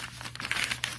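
Thin plastic bag packaging around a men's Burberry wallet crinkles and rustles close up, a brief continuous crackle with a low steady hum underneath.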